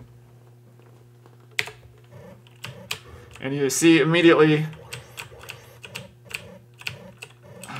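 Computer keyboard keys pressed on a machine running a C64 emulator, a scatter of sharp, close clicks and taps, some single and some in quick runs, while someone speaks over them.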